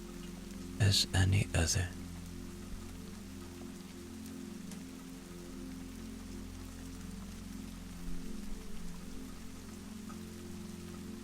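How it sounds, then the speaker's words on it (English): Steady rain falls on surfaces in a soft, constant patter that continues throughout at low volume, with a calm voice speaking briefly near the start. "the rain does not stop. If anything, it deepens."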